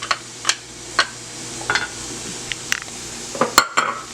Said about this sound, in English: We're just going to saute it a little bit